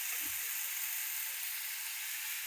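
Tomato chutney sizzles softly in hot oil in a home kitchen, a steady faint hiss of frying that runs through the whole moment with no talking.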